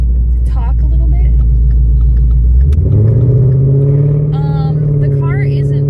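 A Ford Mustang drives along with a low engine rumble that shifts upward in pitch as it accelerates midway, loud and close, with someone talking over it.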